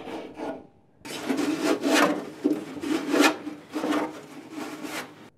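An old rag is rubbed over sheet metal that has been deburred, ahead of rust treatment for welding repair, giving a series of close, rhythmic swishing strokes, loud and alone without talk.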